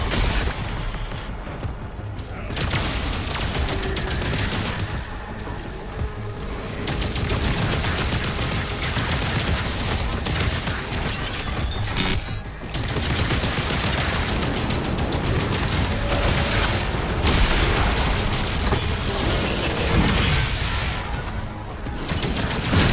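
A big cannon in the video game Doom: The Dark Ages fires in a relentless, loud barrage of heavy booming blasts with crashing impacts, continuous for over twenty seconds with only brief dips.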